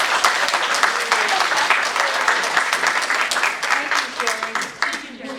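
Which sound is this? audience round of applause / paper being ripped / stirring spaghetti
audience round of applause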